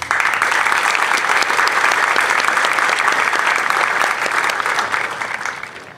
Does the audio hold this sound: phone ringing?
no